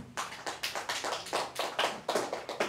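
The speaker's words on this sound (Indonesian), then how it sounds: "Kita beri aplaus dulu buat Mawi." A small audience at an Indonesian talk on revolution and romanticism in Iran claps for the guest speaker Mawi, with sharp, separate bursts of hand claps coming in an uneven rhythm, close and fairly loud.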